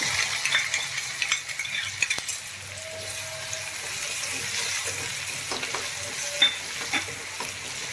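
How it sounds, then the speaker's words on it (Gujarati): Onion and finely chopped garlic sautéing in a pan with asafoetida and curry leaves: a close, continuous sizzle runs throughout, broken by scraping stirs and light utensil clinks. "તો આપણે ડુંગળીને થોડીક આપણે સોતે કરવાની છે"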